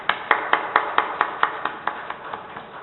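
A church congregation welcoming a pastor's family with steady, even applause: about a dozen crisp claps in a regular rhythm, moderately loud, with no voices over them.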